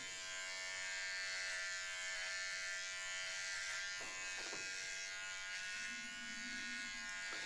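An electric hair clipper buzzes steadily during a home haircut, a continuous close motor drone with slight changes in tone as it moves through hair.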